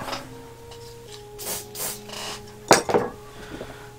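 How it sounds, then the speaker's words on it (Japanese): A metal file working a plastic Gunpla model part, Barbatos Lupus Rex: a few short scraping rasps in quick bursts, close and fairly faint, followed by a brief clatter of handling. "こっちは金属用のヤスリで整えますね。"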